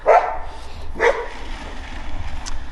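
A dog gives two sharp barks about a second apart, close and fairly loud, then quieter background noise from an indoor bonsai repotting session follows.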